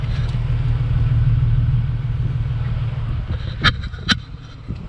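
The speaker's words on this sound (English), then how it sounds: "it's got like a baffle, a backfire sort of noise when you rev it up a bit" A Ford Territory family SUV with an IPV exhaust idles with a steady low rumble, then gets two brief sharp revs near the end that give a burbling, backfire-like crackle.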